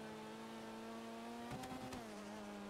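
A steady, faint tractor engine drone in GTA V hums along, briefly roughening and shifting pitch midway before settling back.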